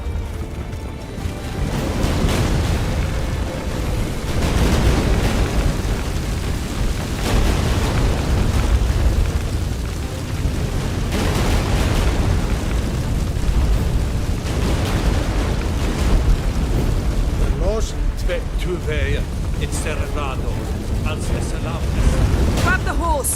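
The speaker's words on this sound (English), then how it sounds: "An earthquake?" Deep, continuous rumbling and crashing from an earthquake in The Witcher 3 as a ship breaks apart, loud and sustained throughout with bursts of debris, while voices speak over it.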